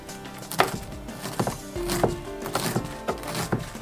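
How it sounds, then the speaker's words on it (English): A knife finely chopping cabbage for sauerkraut on a cutting board, with several sharp, close knife strikes spaced irregularly and a woody thud from the board, no voices. "we just start taking our cabbage and we just start finely cutting it up"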